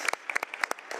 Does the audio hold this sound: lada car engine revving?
no